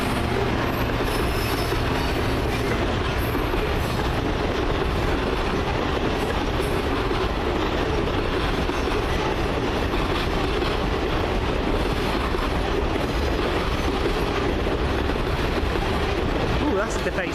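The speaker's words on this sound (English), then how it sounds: "66015 with a coal train." A Class 66 diesel locomotive, 66015, hauls a loaded coal train through Bristol Temple Meads station. The wagons give a loud, continuous rumble and clatter with occasional wheel squeal, close by and sustained, with voices faint underneath.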